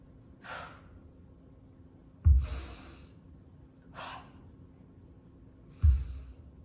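Heavy breathing during a kettlebell sumo deadlift, four distinct breaths alternating between a sharp inhale and a forceful, thudding exhale, close and clear over a quiet background.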